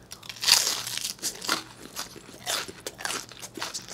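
Crunchy Korean fried shrimp tempura, some peeled and headless and some with heads on, bitten and chewed up close, with a string of loud, crisp crunches repeating in an uneven rhythm and no talking.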